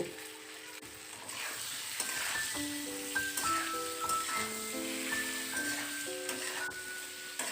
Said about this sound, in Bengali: তো এই ডাটাটাকে ভালো করে নাড়ি চাড়িয়ে আবারও আমি কষিয়ে নেব